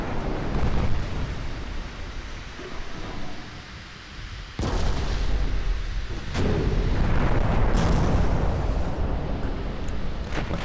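Naval shells slam into a warship's casemates in a game battle, heavy booming impacts with crackling debris over a constant roar of wind and sea, two sharp hits standing out partway through.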